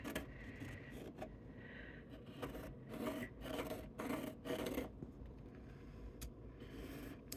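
An embossing tool traces a template line on card, giving soft, faint, repeated rasping scrapes in short strokes, close and quiet with no talk.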